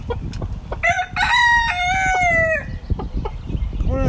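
Rooster crows loudly and up close in a coop of laying hens, with a long harmonic call near the start, soft clucks and shuffling throughout, and a shorter crow-like squawk near the end.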